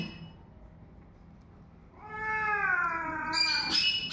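A cat gives a drawn-out, wavering meow, then a couple of higher, sharper cries right after, fairly close, after a quiet start.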